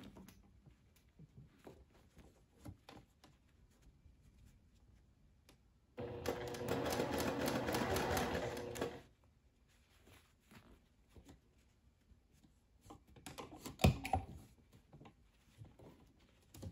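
A sewing machine stitches along the ruffle of a sundress in a single steady burst of about three seconds, quiet and close, surrounded by faint handling clicks and a short clatter later on.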